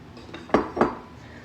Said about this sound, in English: Stir that around. Make sure all of the cheese is coated in flour.